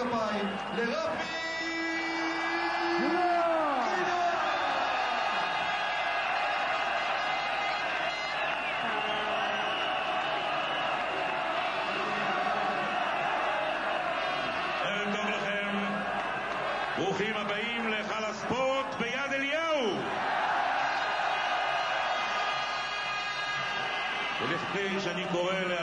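Large crowd at a Maccabi Tel Aviv basketball team reception after winning the 2001 European cup cheers and claps in a sustained, moderately distant roar, with voices and shouts rising over it at times.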